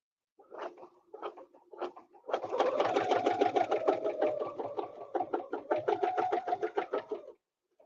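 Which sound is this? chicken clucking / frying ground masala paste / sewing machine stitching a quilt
sewing machine stitching a quilt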